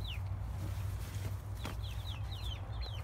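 Young chicks chirp and peep outside their small coop, with short rising and falling calls repeating through the clip over a steady low rumble of background noise.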